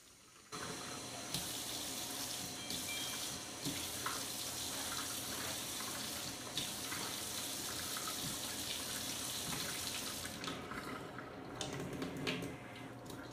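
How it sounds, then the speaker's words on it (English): Warm well water runs steadily from a tap into a bottle, a continuous close splashing and hissing stream that lasts nearly the whole time and shifts slightly in tone as the bottle fills. "I'm going to make sure it's warm, and I'm just going to fill the bottle up with that."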